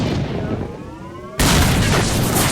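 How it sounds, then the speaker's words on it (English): A grenade explodes in the video game STALKER, one sudden loud blast that cuts in after a quieter stretch of game sound and rings out briefly. "He's just constantly throwing grenades."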